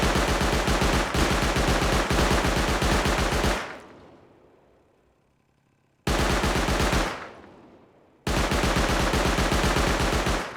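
An auto turret in the video game Rust fires rapid, loud automatic bursts. Three long strings of shots are split by pauses, with the first pause fading slowly into quiet.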